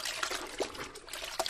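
Water trickles and splashes softly in a cartoon scene, a faint uneven pour with a few small splashy bursts and no talk.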